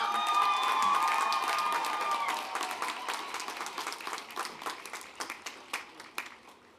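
Applause breaks out for a graduate at a university graduate and professional commencement, starting as a dense wash of clapping from a large crowd and thinning into scattered individual claps as it fades.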